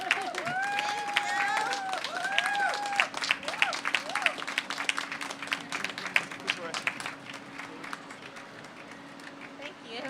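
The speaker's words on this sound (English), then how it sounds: "Let's give these two ladies a round of applause." An audience at the World of Montgomery Festival 2018 claps in a busy, continuous patter, with voices talking over the first few seconds before the applause carries on alone.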